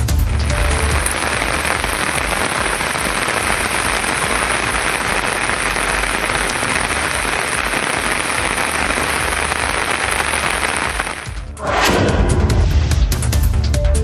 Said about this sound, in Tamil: நெல்லை மாநகரில் மிதமான மழை பெய்தது.